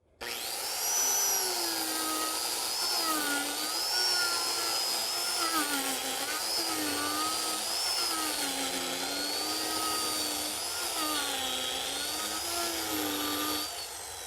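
Tungsten carbide cutter on a power tool sculpting a wooden chair seat, a loud, continuous high-pitched whine with wavering pitch as the cutter bites into the wood, steady and uninterrupted for the whole stretch.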